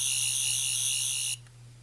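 A collapsible Doctor Who Tenth Doctor sonic screwdriver toy plays its second sound effect, a loud, sustained, shrill electronic tone that stays level for about 1.3 seconds before stopping sharply. Only a low background hum remains afterward.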